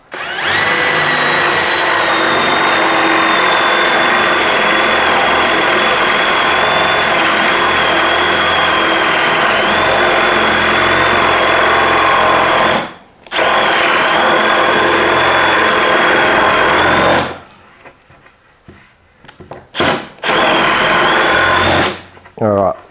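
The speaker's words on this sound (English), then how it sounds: "You can see it's bored a nice hole." A power drill bores a hole into a wooden workbench board. Its loud, steady motor whine runs continuously for about thirteen seconds, stops briefly, then returns with a few short stops and restarts near the end.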